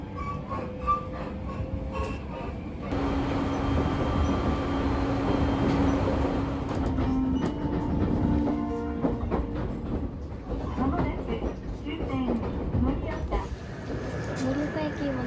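A train in rural Iwate rolls along the tracks with a steady rumble and faint rhythmic clatter, while a voice talks over it and a tone hums briefly.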